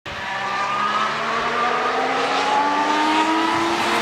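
Williams Formula 1 car on new soft tyres at Monza, a loud, high engine whine with rising harmonic tones as it accelerates steadily past at close range.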